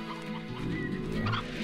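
A hen in the Slime Rancher video game gives a short burst of clucking and warbling fowl calls, close and fairly loud, with no talking.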